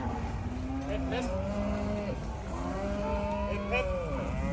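Black-and-white Holstein heifers mooing repeatedly while being loaded onto a vehicle on a farm, several drawn-out calls overlapping at moderate distance over a steady engine hum.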